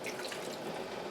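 Filtered well water poured into a measuring cup for a cider vinegar and sugar coleslaw canning syrup, a steady close splashing trickle lasting about a second with no talk.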